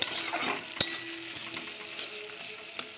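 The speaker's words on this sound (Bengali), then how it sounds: "এবার পেঁয়াজটা একটু ভাজা ভাজা হবে" Onion sizzles in hot oil with whole cumin and bay leaf for a potato chicken curry, a steady close frying hiss broken by a few sharp stirring scrapes and clinks of the spoon.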